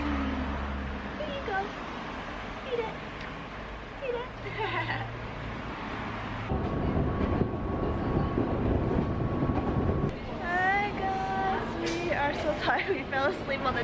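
Inside a moving train on a day trip near Nikko, Japan, a continuous low rumble and rattle of the carriage runs beneath nearby voices and other cabin noises, getting louder midway through.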